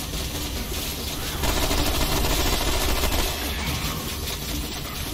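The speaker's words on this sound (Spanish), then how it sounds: "los disparos van al jefe o a los pequeñitos" Gunfire in the video game Remnant: From the Ashes, dense overlapping shots and bursts forming a loud, continuous barrage with no talk.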